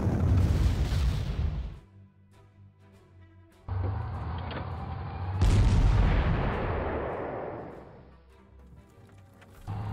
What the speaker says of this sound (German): dann schicken wir Artillerie hier hin